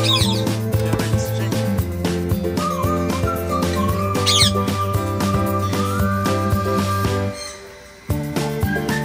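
Indian ringneck parrots in a Philippine aviary give shrill whistles and squawks over a steady low electrical hum, with brief chirps scattered throughout before a short drop near the end.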